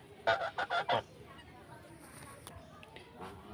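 Four loud domestic geese honks in quick succession, then quieter rustling and faint background noise.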